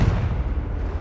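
A Confringo fire spell blast in Hogwarts Legacy, a heavy low rumbling boom that fills the moment loudly and decays without any voice.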